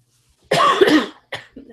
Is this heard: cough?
yes